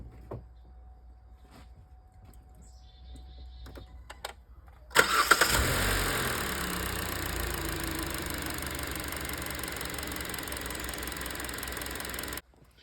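A 2017 Hyundai Elantra engine cranks and catches after a quiet lead-in, then runs at a smooth, even idle up close for several seconds before cutting off abruptly.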